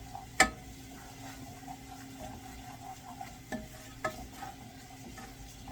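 Home canned tomatoes simmer down in a pot with a low steady bubbling, broken by a few light clicks and taps of a spoon against the pot.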